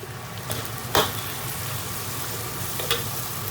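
Pork intestines stir-fry in oil with ginger, garlic and doubanjiang in a wok, a continuous loud sizzle with occasional sharp spatula scrapes.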